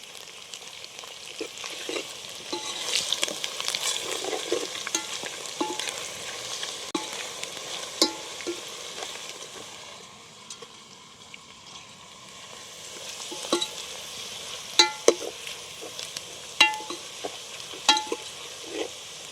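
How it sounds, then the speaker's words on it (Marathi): Homemade masala, peanut powder and biryani masala sizzling in a pan for a mutton pulao biryani, a steady crackling fry with occasional scraping stirs, close and continuous with a brief lull midway. "चांगलं मसाला तळून घेतलं"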